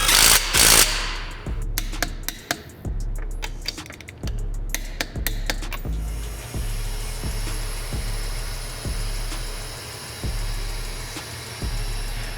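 Wheel going back onto a 2022 Toyota GR86 with OEM lug nuts: a run of sharp metallic clicks and ratchet-like taps, busy at first then spaced steadily, over a low idling hum, close and without talk.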